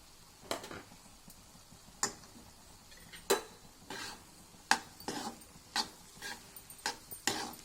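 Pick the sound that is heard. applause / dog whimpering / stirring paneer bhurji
stirring paneer bhurji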